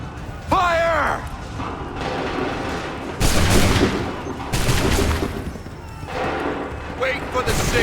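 Musket volleys ring out in Assassin's Creed III Remastered during the battles of Lexington and Concord: two loud, broad crackling bursts rise out of a constant battle din, with voices shouting throughout.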